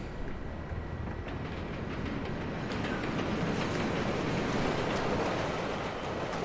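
A train rumbles along the tracks in the video game Splinter Cell Blacklist, a dense, steady roar with faint rhythmic clatter that stays loud and continuous throughout.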